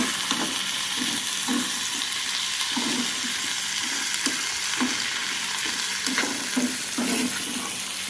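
Masala spices fry in a pan while matar paneer masala is being cooked. A continuous soft sizzle carries throughout, broken by light, repeated scrapes and stirs at an uneven pace.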